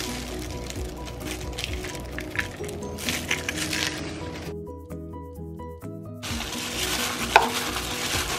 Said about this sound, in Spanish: Ahora lo vamos a revolver bien, bien, bien.